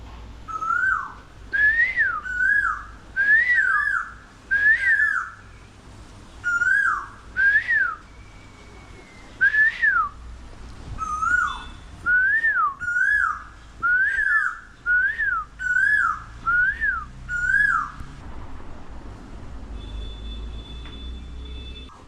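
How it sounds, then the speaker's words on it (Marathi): A bird calls again and again with loud, clear whistled notes that rise in pitch, delivered in quick runs with short pauses between them. No one speaks. "कोकिळ आहे कोकिळ कोकिल आता आता मी आवाज येतो बघा"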